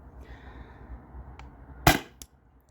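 A single sharp pop from a CO2-powered home defense launcher firing over a chronograph, loud and close, followed by a brief second click against a quiet background hiss.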